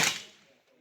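A single .22 LR rifle shot firing CCI standard velocity pure lead ammunition, heard as one sharp crack at the start that decays quickly into a short quiet tail.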